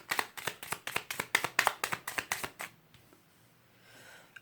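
Lenormand fortune-telling cards are shuffled in a rapid burst of about fourteen crisp, close riffling snaps, followed by a quiet pause and a faint shuffle of cards being laid out, with no voices.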